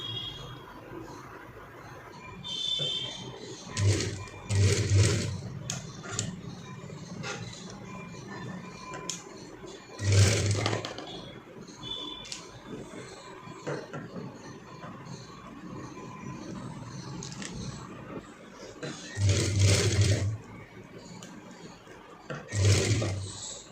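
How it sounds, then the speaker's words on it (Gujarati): A sewing machine stitches pleats into a skirt for a small girl, running in short loud bursts over a steady mechanical background hum, with pauses between runs. "તો આમાં હું તમને ચપટામાં સિલાઈ કરીને બતાવીશ."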